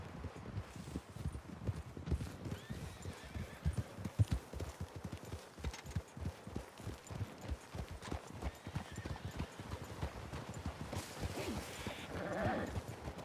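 Horse hooves in the video game Red Dead Redemption 2 clip-clop in a quick, steady rhythm across rough ground, a faint whinny mixed in, fairly close and continuous throughout.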